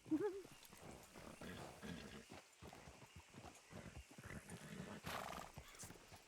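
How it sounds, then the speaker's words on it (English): A horse whinnies sharply at the start in the video game Red Dead Redemption 2, followed by galloping hoofbeats and clattering movement over a busy background during a race, with a brief voice in the mix. "Damn horse acting up on me."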